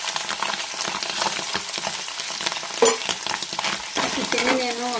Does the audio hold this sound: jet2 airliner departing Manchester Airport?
no